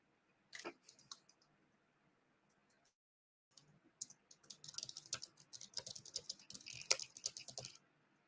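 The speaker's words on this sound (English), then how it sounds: "Can you hear my typing there, Thomas?" Rapid clicking of keys on a computer keyboard, irregular bursts of typing with a brief pause in the middle, close and fairly quiet.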